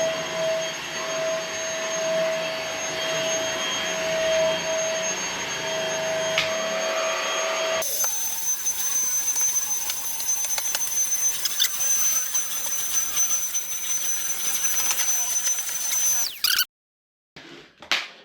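A Temu cordless vacuum cleaner runs close by, sucking out a blockage from another vacuum, a loud steady whine that shifts pitch midway, grows harsher and more turbulent, then cuts off near the end.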